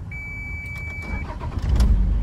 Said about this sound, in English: We're gonna turn the ignition.